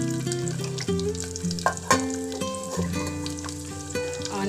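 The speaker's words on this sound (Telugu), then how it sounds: "ఆనియన్, పచ్చిమిర్చి కూడా వేసాను నేను. మంచిగా ఇట్లా ఫ్రై అవ్వాలి." Onion and green chilli fry in a pan for a Telangana-style goruchikkudu fry, giving a steady sizzle under tonal background music. No one speaks.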